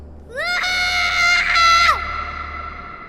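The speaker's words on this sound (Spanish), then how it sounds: "Entonces, su hijo gritó desde su cuarto." A child screams from his room, a single sustained high-pitched cry lasting over a second, loud and close, with a faint echo as it cuts off.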